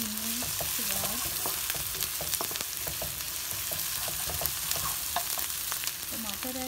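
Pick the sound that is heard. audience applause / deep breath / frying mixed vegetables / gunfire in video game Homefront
frying mixed vegetables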